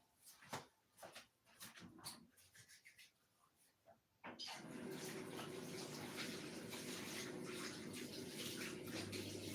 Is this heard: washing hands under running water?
yes